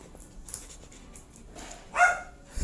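A pet dog barks at home while someone plays a mobile strategy game, giving a couple of short, sharp barks near the end over a quiet, hissy room background.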